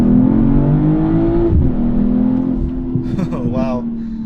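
BMW M340i sport sedan engine revving and pulling hard under acceleration, a loud steady drone whose pitch climbs, eases briefly, then climbs again, heard close from inside the car.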